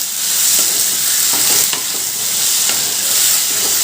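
Mutton and tomato sautéing in a pan, with a steady loud sizzle and intermittent scraping stirs, and no voices.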